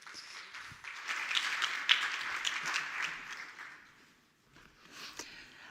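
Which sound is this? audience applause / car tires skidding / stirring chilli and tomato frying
audience applause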